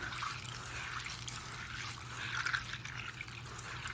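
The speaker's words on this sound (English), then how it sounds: "So I'm gonna rinse them in the water." Pinto beans are rinsed in water, giving a faint, continuous trickling and sloshing with a low background hum throughout.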